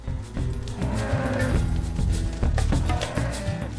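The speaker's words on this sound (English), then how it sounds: "we're going to try and get the cows into the pen over here" Beef cattle on a small farm in Argentina moo again and again, with several overlapping lows that carry on steadily and fairly close by.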